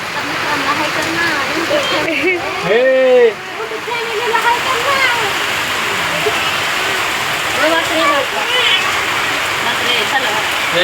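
Loud, continuous rush of heavy first-of-the-season rain pouring down, with children's voices and chatter rising over it throughout.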